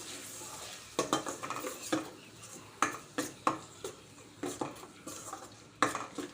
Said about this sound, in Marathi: आता अद्रक लसणाची पेस्ट आणि ही जी पेस्ट आहे आपण छान अशी परतवून घेऊया तेलामध्ये तेल सुटेपर्यंत मंद आचेवर